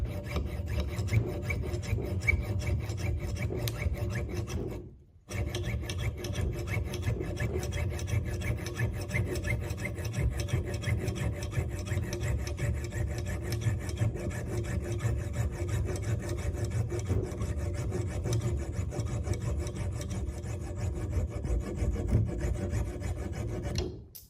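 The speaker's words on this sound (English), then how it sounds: "It's better if the saw is at an angle, which means that more teeth from the actual saw are in contact with the aluminium" A junior hacksaw cuts aluminium in steady, rapid back-and-forth rasping strokes, close and continuous, with one brief pause near the start and no talking.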